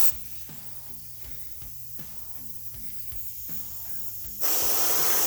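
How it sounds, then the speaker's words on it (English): Spray paint hissing over a stencil onto rusty metal in short repeated bursts, each quick spritz separated by pauses, ending in a longer continuous spray. "I am painting off of the stencil and letting that overspray do the work"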